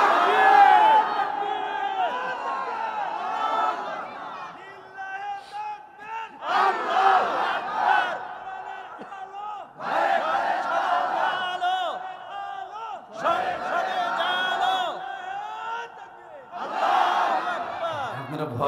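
A large crowd at a Bangla-language Islamic sermon shouts takbir in repeated loud, surging bursts of massed voices, each swell rising and fading before the next outcry.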